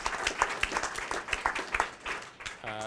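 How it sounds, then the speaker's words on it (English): Audience at a Denver Startup Week event applauding, a brief round of scattered, uneven clapping lasting a few seconds before a voice resumes. "Let's give them all a quick round of applause for making this event and this week possible."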